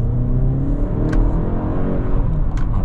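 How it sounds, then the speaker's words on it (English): A Buick Envision Avenir AWD accelerates hard, its engine note rising as the revs build, heard steadily from inside the cabin with no talking. "And that was a short acceleration run."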